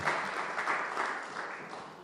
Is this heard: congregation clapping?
yes